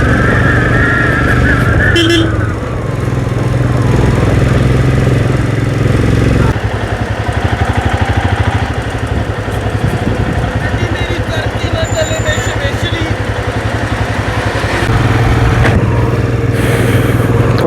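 Motorcycles run steadily on a mountain road in Kinnaur, their engine drone loud and close throughout, with wind buffeting and a voice talking over the riding.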